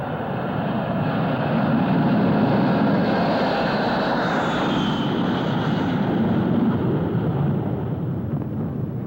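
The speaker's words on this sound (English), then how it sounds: "The plane is a commercial Super DC-8 chartered by the military." Steady, loud roar of a Super DC-8 jet airliner in flight on a military charter, a broad even engine drone with a faint whine sliding across it, continuous throughout with no talking.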